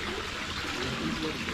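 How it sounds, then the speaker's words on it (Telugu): Spring water rising from the ground flows down a channel in Kashmir, a steady close rushing trickle heard throughout a brief stretch, with faint voices nearby. "ఇక్కడి నుంచి గ్రౌండ్ వాటర్ పైకి వచ్చి ఇలా ఫ్లోతో ఇలా కింద వరకు వెళ్తుంది."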